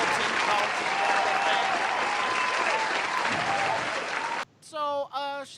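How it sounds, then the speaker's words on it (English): Loud, dense crowd applause fills most of the stretch and then cuts off abruptly, after which someone speaks briefly. "Round of applause for Ernest there"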